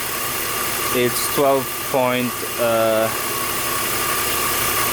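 A BMW E46 M engine idles steadily with a thin, constant whine riding on its low hum, which fits an alternator fault, while someone talks over it in short bursts.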